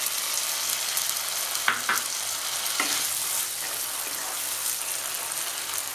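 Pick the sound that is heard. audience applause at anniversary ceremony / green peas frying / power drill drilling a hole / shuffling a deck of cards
green peas frying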